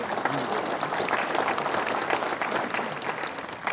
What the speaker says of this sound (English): I let you applaud for Kathy for one big reason